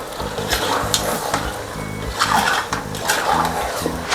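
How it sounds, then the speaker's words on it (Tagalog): Caldereta with green peas and seasonings sizzles loudly in a pan while a spoon stirs it, giving a steady frying hiss broken by repeated scraping strokes. "haluin muna natin"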